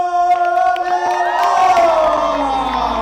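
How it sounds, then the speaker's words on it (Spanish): A crowd cheering and whooping loudly for a mentor at a presentation event, a sustained roar of raised voices with shouts layered over it, close and continuous. "muy fuerte aplauso a nuestro mentor"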